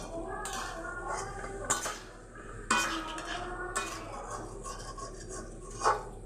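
Metal spoon scraping and clinking against a pan while potatoes and pointed gourd are stirred and sautéed for a vegetarian Bengali potol alur dalna, with repeated clanks and a soft sizzle underneath.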